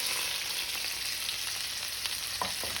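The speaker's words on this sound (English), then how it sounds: "And now I'm going to start going in with my shrimp." Shrimp being stir-fried for chow mein noodles give a constant hissing sizzle at moderate level, with a couple of faint utensil taps near the end and no talking.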